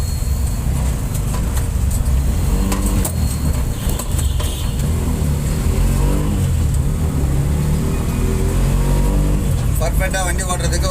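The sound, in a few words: load auto rickshaw engine while driving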